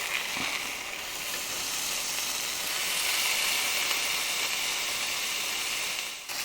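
Flank steak pinwheels sear in a hot pan with a steady, bright sizzle that holds at an even level throughout and eases slightly at the end, with no talking.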